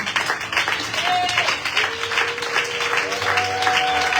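A church congregation applauding, steady continuous clapping from a crowd that fills the space, with a sustained tone held above it throughout.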